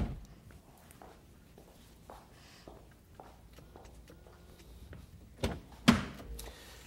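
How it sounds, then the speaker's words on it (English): Quiet shuffling and light rustling, then a solid car door shuts with a heavy thump near the end, followed by a brief rattle. "I'm going to close the door."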